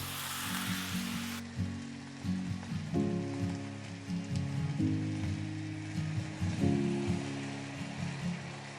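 Plant-based noodles and sauce sizzle in a hot pan, a continuous hiss like light rain that runs beneath melodic background music.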